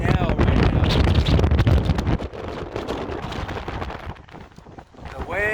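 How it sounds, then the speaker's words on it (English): Strong wind on the summit of San Gorgonio, buffeting a microphone in heavy gusts that ease partway through, with a person's voice mixed in. "The wind is kicking in."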